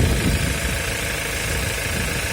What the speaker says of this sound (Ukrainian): Працює моторчик чисто, акуратно, без лишніх шумів.